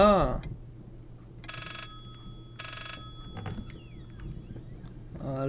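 An old telephone bell in the horror game Layers of Fear rings in two short electronic bursts a second apart, with a brief voice at the start and faint game sounds afterward.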